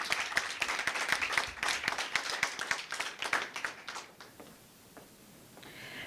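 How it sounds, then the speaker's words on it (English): Audience members at a secondary school debate clap with dense, crisp applause after a winner is declared, heard from some distance and tapering to a few scattered claps. "And another round of applause for both our teams"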